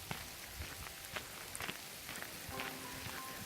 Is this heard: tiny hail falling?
yes